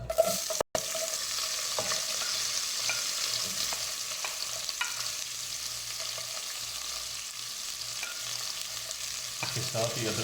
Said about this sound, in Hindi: बीच में प्याज डालेंगे,